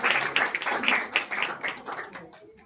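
An audience at a Christmas church service breaks into clapping: bursts of rapid hand claps, fairly close and fading toward the end, mixed with a voice talking.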